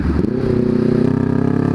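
Honda CB500X motorcycle engine revving hard on the throttle, a loud, close, steady rumbling drone with a rapid pulsing beat that holds for under two seconds, no voices.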